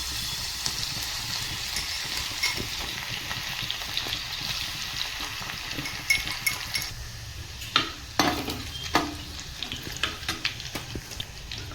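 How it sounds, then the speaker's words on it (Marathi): Garlic frying in hot oil in a kadhai as the base for prawn biryani: a steady, close sizzle that runs throughout, with spatula scrapes and metallic clinks of stirring in the later part. No voices. "आता मी त्याच्यामध्ये लसूण घालते."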